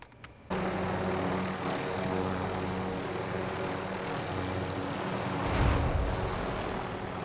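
Helicopter in a German battle-royale-style video game, a steady loud rotor and engine roar starting abruptly after a brief pause and holding with a swell near the end, no talk over it.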